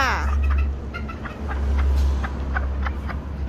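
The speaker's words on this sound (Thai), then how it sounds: "ไก่แจ้หางดำค่ะตัวเมีย" A black-tailed bantam hen clucks and chatters in short repeated notes close by, with a low steady hum underneath.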